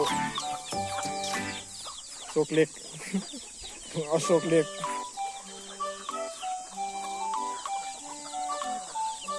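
Chickens cluck and squawk repeatedly nearby while being fed on a farm, with busy overlapping calls coming in bursts, and someone speaks at intervals between them.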